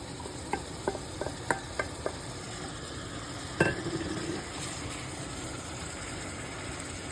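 Green beans tipped into a curry and stirred in a pan, with a few light clinks and scrapes of a utensil early on, one louder knock and a brief burst of sizzle, over a faint steady background hum.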